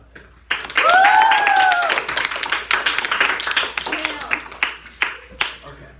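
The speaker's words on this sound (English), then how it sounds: "when they will applaud as we welcome the two candidates, Claire and Private First Class Hale" An audience applauds to welcome two candidates at a debate, with a dense burst of clapping that thins into scattered claps. A voice is briefly heard over the clapping.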